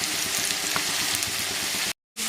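Mustard seeds fry in hot oil for a bitter gourd pachadi, a dense, steady crackling sizzle with tiny pops, close and loud, that cuts off abruptly near the end.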